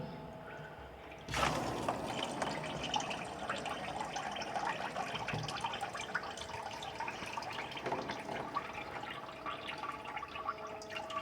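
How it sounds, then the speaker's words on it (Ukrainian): Steady rushing, gurgling water flows continuously through underfloor heating pipes after a sudden onset, with faint bubbling and splashing as air escapes, fairly close. "сюди буде вода заходить, проходить через контур, через верхній виходить повітря"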